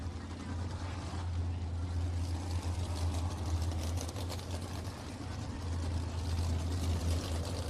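Sprint cars roll off a speedway track after a heat race, their engines a steady, low, fairly distant rumble running continuously at low volume.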